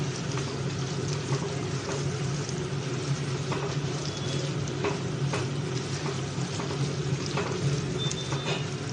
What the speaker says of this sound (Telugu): వెల్లుల్లిపాయలు తొక్కలతో వేసుకోవాలి. వేసి బాగా వేయించుకోవాలి.